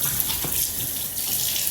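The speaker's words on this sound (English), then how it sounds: "gotta wash my hands" Tap water runs steadily into a sink for hand washing, a close, even hiss with slight splashing and no talking.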